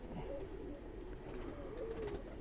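Khaki pigeons coo softly in a loft, with low, rolling calls repeating steadily against a constant background murmur and no voices.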